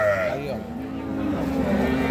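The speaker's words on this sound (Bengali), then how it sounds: "এটা হচ্ছে গাভী।" A Sahiwal dairy cow at a busy cattle market gives a loud, drawn-out moo at the start, with crowd noise and voices murmuring behind it.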